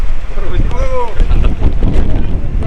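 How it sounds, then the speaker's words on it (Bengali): Strong wind buffeting a boat out at sea near Monpura in Bhola, a loud continuous roar with gusts and rumble filling the whole span, with faint water and a brief whistling tone. "বাতাস কি অবস্থা ভাই, দেখতেছেন কি ভয়ানক অবস্থা"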